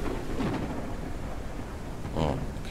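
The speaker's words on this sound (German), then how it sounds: "Ja, Blitz und Donner, geh halt weg. Ihr donnert's und blitzt's." Thunderstorm in the video game Forever Skies: a steady wash of rain and rumbling thunder fills the whole stretch, with a louder crack swelling near the end.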